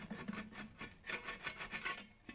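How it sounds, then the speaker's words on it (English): The edge of an aluminium angle is rubbed back and forth to remove a burr, making a quick series of faint, rhythmic rasping strokes up close, with no talking. "I'm just going to give this a rub on the side."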